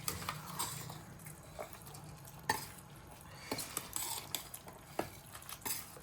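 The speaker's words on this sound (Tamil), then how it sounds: "மேலே ஒரு லைட்டாக ஒரு கிண்டிக்கலாம்." A spoon lightly turns rice through chicken biryani in a pot, soft scraping and stirring scrapes with a few sharper clinks against the metal, close up with faint sizzling underneath and no talking.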